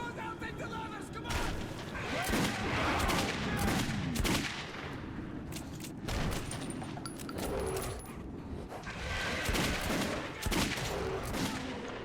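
Gunfire from the video game Metro 2033 Redux, rapid bursts of shots crackling through a dense, busy battle mix while voices shout over the action.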